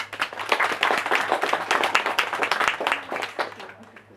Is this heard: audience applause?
yes